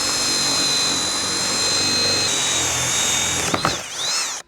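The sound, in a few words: 3/4 inch hole saw drilling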